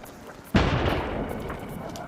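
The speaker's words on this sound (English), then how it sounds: "That's an artillery." A single loud artillery blast from shelling in Ukraine booms out suddenly, its sharp onset followed by a long rumbling decay, heard from a fairly close position with no talk over it.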